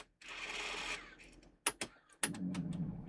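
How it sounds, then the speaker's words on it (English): A Sony DTC 750 DAT recorder's tape mechanism whirs steadily as it threads a test tape, then gives a few sharp clicks and clunks followed by a lower motor hum, close and fairly quiet. "it's threading up"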